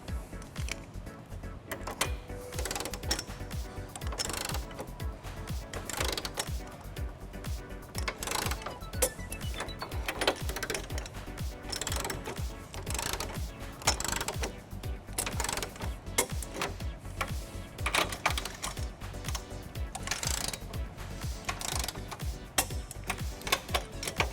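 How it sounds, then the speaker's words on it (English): A hand ratchet with a 19mm deep well socket tightening trailer hitch nuts on a 2012 BMW X5: steady rapid clicking of the pawl in long continuous bursts, close and alone throughout. "now we're going to tighten and torque all of our nuts to the manufacturer specification. We're going to be using a 19mm socket"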